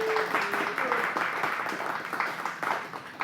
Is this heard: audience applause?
yes